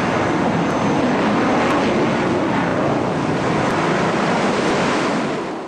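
An F-35 jet runs its vertically mounted lift fan, with the doors open above and below to let air flow through it. A steady, loud, broadband roar holds throughout with no pauses and no voices.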